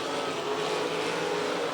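Sprint cars race around a dirt track, their engines a continuous, fairly distant roar that stays steady throughout.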